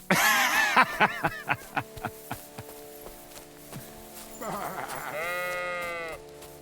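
Sheep in Kingdom Come Deliverance II bleat several times in quick succession, then a longer wavering bleat follows, fairly close and loud with quiet footsteps around them.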